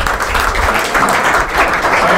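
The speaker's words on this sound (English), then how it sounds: "let's give Aaron one more round of applause." A room of attendees giving Aaron Foster a round of applause after his talk on real estate deals, a loud, continuous wash of clapping that stays dense throughout, with no voices standing out.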